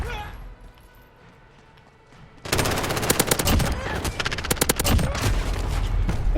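MP7 submachine gun fire in Call of Duty Modern Warfare, rapid close bursts of shots starting suddenly after a quieter stretch and continuing densely to the end, with a voice talking underneath.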